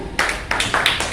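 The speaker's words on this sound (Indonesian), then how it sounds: "Tepuk tangan." Hands clapping in a classroom, a few sharp bursts of claps from a small group close by, loud and uneven with no talking.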